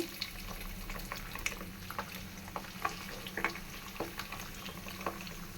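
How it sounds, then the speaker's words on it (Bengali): Pabda fish frying in hot mustard oil give off a steady, dense sizzle with small pops and crackles scattered throughout, close and fairly quiet, with no talking. "তেলটা অলরেডি গরম হয়ে গিয়েছে এখন আমি মাছগুলো দিয়ে দিচ্ছি"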